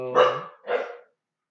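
Two loud, close dog barks in quick succession, each a short harsh burst with no voices around them.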